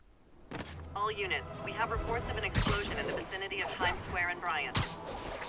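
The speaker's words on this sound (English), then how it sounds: "Explosion? Better check it out." Two sudden booming explosions in Marvel's Spider-Man cut through ongoing speech and game sounds, one in the middle and one near the end, loud and close.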